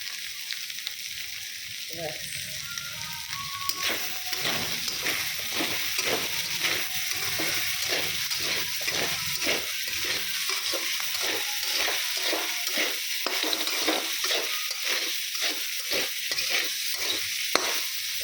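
Soybean chowmein stir-fried in a pan with Maggi masala, salt and black pepper: a steady sizzle under rhythmic scraping strokes of a spatula, close and continuous, with no talking.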